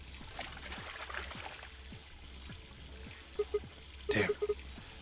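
Water poured onto a stained sheet in the video game Virtue's Last Reward, a soft trickling pour under low background music, ending in a short cluster of sharp splashy blips.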